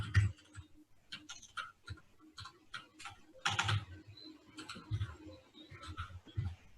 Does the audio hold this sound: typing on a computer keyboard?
yes